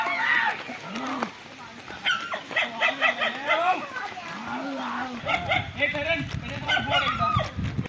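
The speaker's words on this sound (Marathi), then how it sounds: "तर ही 2 कुत्री आहेत ना आपल्या मागणं." Two dogs bark and whimper behind walkers on a footpath near vegetable fields in rural Konkan, Rajapur, with repeated yelps and barks at moderate distance mixed with outdoor background noise.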